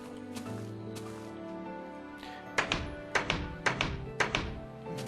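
A wooden door in Minecraft swings open and shut repeatedly, giving a series of sharp, close taps and thunks in an uneven rhythm over a soft music bed.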